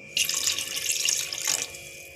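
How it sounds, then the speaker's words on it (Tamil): Rice-washing water pours steadily into a cooking pot of mutton gravy for a couple of seconds, a close, bright splashing stream that briefly swells near the end. "இப்போது நம்ம அந்த அரிசி களைஞ்ச தண்ணி கொஞ்சோன்னு சேர்த்துக்குவோம்."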